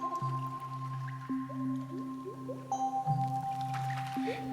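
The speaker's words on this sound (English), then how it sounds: "As the water passes through the filter, it drips into a glass container that looks like it's straight out of a chemistry lab" Water from a pour-over coffee brewer drips through the filter into a glass lab-style carafe, making steady soft plinks and trickles over a low continuous hum.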